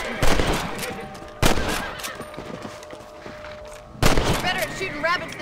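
Three sharp rifle shots ring out in the Red Dead Redemption video game, spaced a second or more apart, each a loud crack with a short tail, fired at rabbits over a faint outdoor game ambience.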